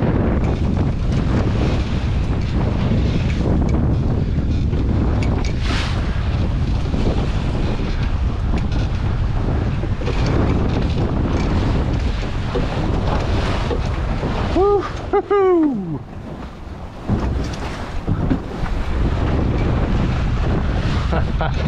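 Strong wind roars across the microphone while a small Welsford SCAMP sailing dinghy moves over open sea near Bruny Island, with water wash and waves beneath, steady and loud throughout, a brief dip and a few creaks partway.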